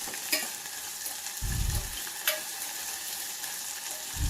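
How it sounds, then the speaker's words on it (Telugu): Carrot and bean pieces fry in hot oil in a pan with a steady crackling sizzle, while a spoon stirs them with a few dull scraping thumps and light clicks, close up. "అవి కాస్త వేడయ్యాక చిటపటలాడుతున్నప్పుడు కట్ చేసి పెట్టుకున్న క్యారెట్ ముక్కలు 1 కప్పు, అలాగే అరకప్పు బీన్స్ అందులో వేసుకొని ఒక్కసారిగా కలుపుకుందామండి"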